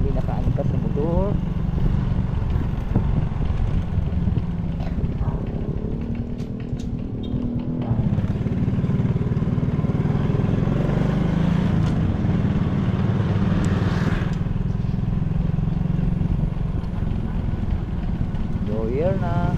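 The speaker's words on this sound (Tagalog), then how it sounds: "tatlo po kami nakaangkas sa motor" A motorcycle carrying three riders drones along continuously, its steady engine rumble loud and close throughout while people talk over the ride.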